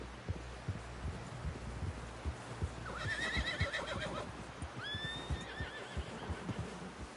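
A horse in a video game whinnies twice in quick succession, a rising, quavering neigh then a shorter one, over steady hoof thuds and a low rumbling background.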